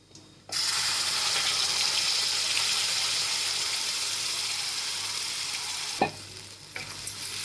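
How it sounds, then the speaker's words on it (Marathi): Spice paste with turmeric and coriander powder frying in a pan over mustard and cumin seeds: a loud steady sizzle starts abruptly and holds, with a couple of sharp stirring scrapes near the end. "हलवून घेते चांगले दोन मिनटं"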